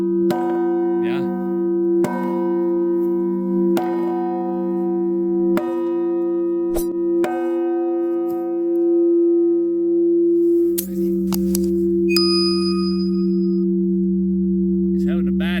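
A one-ton crystal-clear bell is struck repeatedly at a steady rhythm of about two seconds, each strike sounding a loud, close, long-sustaining ringing tone, followed by lighter metallic hits and a brief higher chime near the end.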